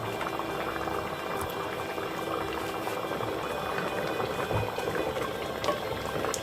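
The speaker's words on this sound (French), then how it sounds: "Je vais baisser le feu et laisser encore mijoter quelques minutes." Beef and beans simmering in a saucepan on a lowered heat, a steady close bubbling and crackling boil running without pause, with no voices over it.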